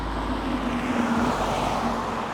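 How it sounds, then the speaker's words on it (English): A car drives past on a road on the way to Ogden, a steady broadband roadway rumble with a faint tonal hum as it nears and recedes, no one speaking. "I'm gonna wait for this car over here too and play it safe"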